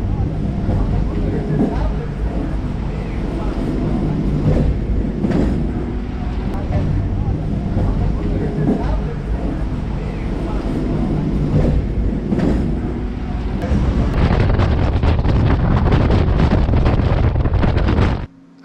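A suburban train runs toward Gummidipoondi with a steady loud rumble and rhythmic wheel clatter, wind buffeting the microphone, the noise growing harsher and denser near the end before cutting off abruptly.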